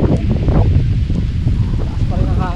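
Strong, steady wind roars and buffets the microphone at a lakeside surf campsite, with a dense low rumble and rustling throughout and faint voices in the background.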